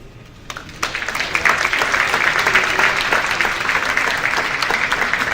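Audience applause swells after a brief lead-in at a fashion show event, settling into a dense, steady wash of many hands clapping that carries on loudly and evenly.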